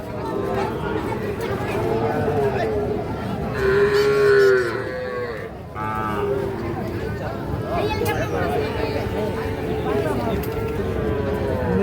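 Sahiwal bull calf, about six months old, lowing at the Ambari cattle market, with one long clear moo standing out over a steady hubbub of crowd chatter and other livestock.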